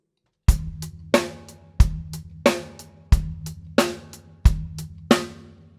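Drum kit groove with snare rim shots accenting the 2 and 4, steady kick and hi-hat pattern underneath, punchy repeated loud cracks ringing out in a regular rhythm.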